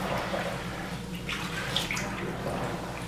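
A down garment is pressed and worked in a tub of water while being washed with Nikwax Down Wash, making soft sloshing, gurgling and bubbling sounds close by, quiet and continuous.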